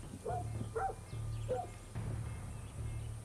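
A dog in Far Cry 6 gives three quick, mid-pitched barks in succession, fairly close, over a constant low engine-like hum.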